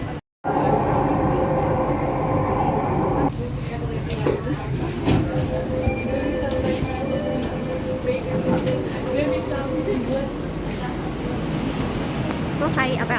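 Steady rumbling metro train noise fills the ride, a continuous low roar with rattles and faint tonal whine, with some talking mixed in throughout.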